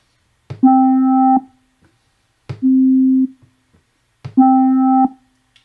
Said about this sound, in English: you can hear the plain sine wave